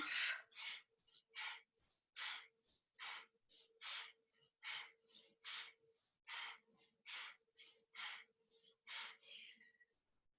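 Forceful Kundalini yoga breath work: a long run of sharp, rhythmic nasal exhalations, each one a quick hissing puff at a steady pace, close and fairly quiet, with no talking.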